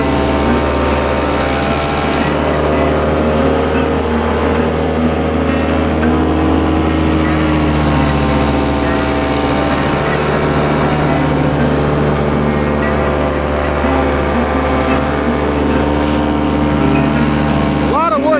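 A paramotor engine drones loudly and continuously during low, fast flight over Wisconsin in winter, with a steady buzzing hum and wind rush. A person speaks over it.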